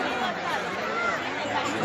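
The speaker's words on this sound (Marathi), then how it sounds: "मागे सगळे गर्दी आहे।" Crowd chatter fills an outdoor park seating area before a water laser show, a steady dense babble of many voices at moderate distance.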